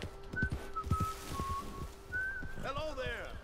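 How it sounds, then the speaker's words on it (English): A character whistles a wandering tune in the Red Dead Redemption 2 video game, clear sustained notes near the microphone over faint background noise, ending with rising bird-like trills. "Who's whistling?"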